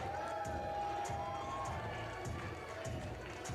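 Arena crowd cheering for wrestler Brent Banks at a Jingle Bell Brawl wrestling event, a steady loud roar of voices filling the space without a break, with rhythmic pulses rising through it.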